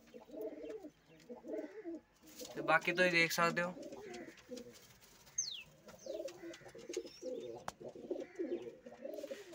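Pigeons coo around a nesting area, with a hen pigeon about to lay eggs, as budgies chirp nearby; soft cooing and a brief burst of bird calls sound under a person talking throughout.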